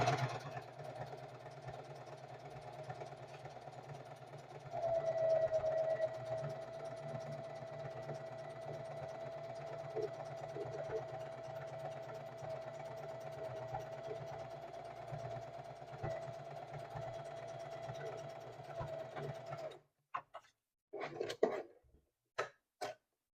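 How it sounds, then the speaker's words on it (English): Singer 4423 heavy duty sewing machine running a zigzag stitch on knit fabric, a steady mechanical whir held for about twenty seconds before stopping, followed by a few short clicks and handling knocks. "change from straight to zigzag. And I'm going to stitch on the knit again."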